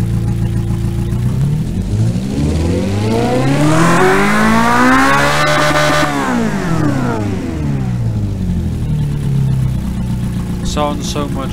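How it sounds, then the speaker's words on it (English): A flatplane V8 engine in the game Automation revs up smoothly to a high rising whine, holds, then drops back down to idle; loud and close, with a brief electronic blip near the end. "I'll also run the engine really quickly and then you can take a listen to it."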